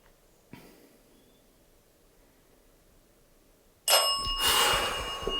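A bell rings suddenly and loudly near the end, bright and sustained, as a ghost-hunting device with a triangle, REM pod and bell responds in a quiet room after a faint knock.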